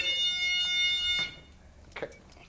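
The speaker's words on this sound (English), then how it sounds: "if anything breaks that beam, it will set off an alarm" A continuous high electronic alarm tone, set off by a broken infrared motion-detector beam, sounds loudly for about a second before cutting off abruptly, followed by quiet room noise and a brief faint knock.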